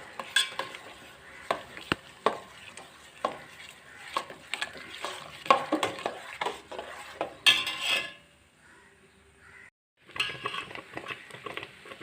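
Semolina stirred into milk in a pot on the stove, with repeated scraping and tapping strokes of a spoon against the pan, each sharp and close, then a quieter pause before the stirring resumes.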